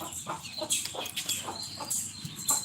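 Hens and chicks clucking close by, a rapid run of short, sharp clucks and peeps repeating in quick succession with no talk.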